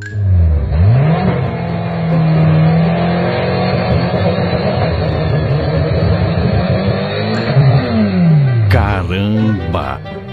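An Opala car engine revs hard and roars continuously up close, pitch sweeping up and down through gear changes, ending with a sharp rising surge.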